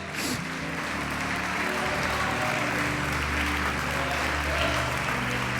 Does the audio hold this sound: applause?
yes